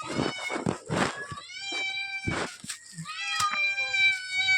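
A cat meows repeatedly up close, several drawn-out, wavering cries in a row with short pauses between them.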